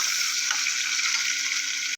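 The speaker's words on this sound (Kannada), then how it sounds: "ಇದನ್ನು ಸ್ವಲ್ಪ ಫ್ರೈ ಮಾಡ್ಕೊಳ್ಳೋಣ" Fennel seeds and onions frying in a pan for mushroom biryani give a steady, close, bright sizzle that holds evenly for about two seconds before cutting off abruptly.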